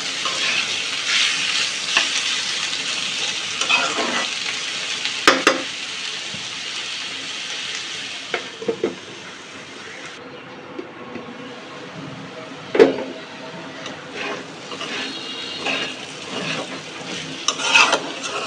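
Cubed potatoes and yardlong beans frying for a Bengali vegan dish, giving a steady broadband sizzle throughout with occasional sharper crackles and stirring clatters, close and fairly loud, no voices.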